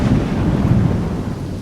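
A heavy thunderstorm rumbles with deep rolling thunder over a dense wash of heavy rain, steady and loud throughout.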